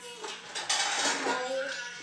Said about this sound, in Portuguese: Vou deixar aqui no micro-ondas.